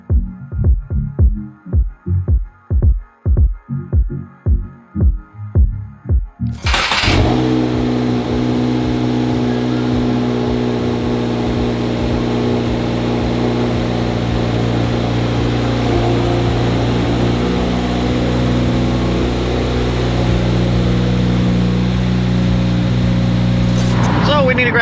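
A 2022+ Subaru WRX with a Perrin intake and front-mount intercooler pulses through short rhythmic revs, then settles into a steady loud drone with a breathy intake whoosh layered over the engine.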